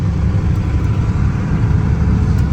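A 1995 Ford F350 Power Stroke diesel pickup with a five-speed gearbox drives in the rain, giving a steady, loud, close engine drone with no breaks.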